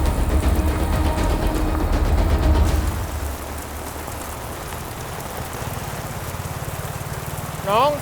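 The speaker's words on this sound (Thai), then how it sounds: "ฝนตกหนักอ่ะ" Heavy rain pours down in a constant loud hiss, drumming on a surface, with a low engine hum underneath.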